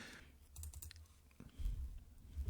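Computer keyboard keys being tapped while navigating invoicing software, giving a quiet, irregular run of soft clicks over low background hum, with no talking.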